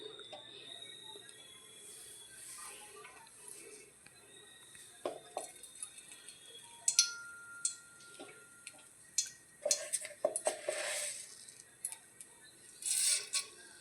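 Sharp knife taps on a board as cooked dough is chopped into small pieces, scattered and fairly faint, with a voice talking at times over the cutting.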